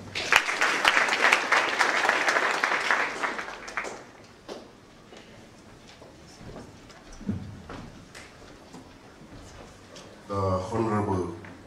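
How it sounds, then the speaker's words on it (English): Audience applause at a live event in Kenya, a dense burst of clapping for about four seconds that then fades, with scattered voices and a final short swell near the end. "A round of applause for him."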